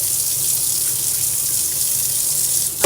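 Tap water runs steadily into a kitchen sink while dishes are washed, a loud, close, continuous hiss with no pauses and a small splash near the end.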